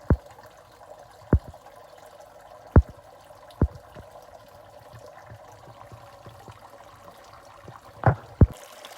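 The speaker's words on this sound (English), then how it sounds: "the mini pond is running, but it's had a good clean out and it's sounding quite loud." Gentle trickling water from a freshly cleaned mini pond runs steadily and fairly loud underneath, broken by a handful of sharp knocks and splashes scattered throughout.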